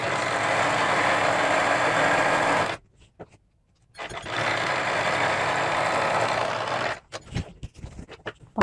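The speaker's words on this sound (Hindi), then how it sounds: "ऊपर के 2 पार्ट उठाएंगे और इसको स्टिच कर लेंगे।" A sewing machine stitches pieces of palazzo trouser fabric, running in two long steady bursts separated by a short pause, followed by a few brief, uneven runs near the end.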